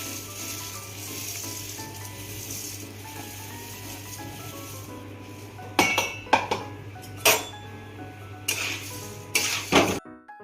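Poha being stirred into a green coriander chivda in a pan: a low sizzle runs underneath, then a spoon clinks and scrapes sharply against the metal pan several times, close by.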